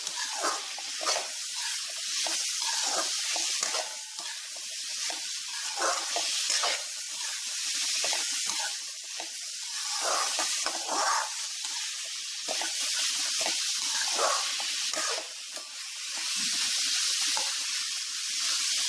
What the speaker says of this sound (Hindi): कैप्सिकम भी डाल देंगे इसे भी फ्राई कर लेंगे